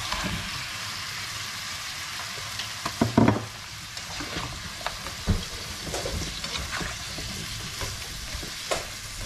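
Prawns tipped into zucchini frying in a pan give a steady, close oily sizzle, with a louder burst of clattering hiss as they land and a few sharp utensil knocks after.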